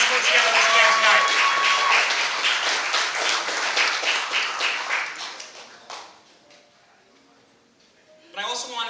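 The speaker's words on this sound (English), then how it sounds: "Give a round of applause for all of them for helping us put together this event tonight." Applause at a virtual launch party for the Alliance for American Leadership, loud and steady for about six seconds, then tapering into quiet, with a short burst of sound near the end.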